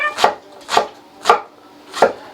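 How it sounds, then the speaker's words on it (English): A knife chops through an onion on a cutting board, four crisp, evenly spaced thunks about half a second apart, close and loud with nothing else audible. "So the onion's pretty easy. Cut this way. Cut this way."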